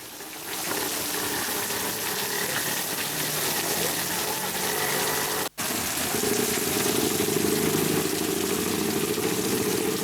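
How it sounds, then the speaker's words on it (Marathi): Heavy, steady rain pours over Parbhani district as a continuous dense rush that breaks off only for a split second. "दुपारनंतर हा पावसाचा जोर वाढलाय."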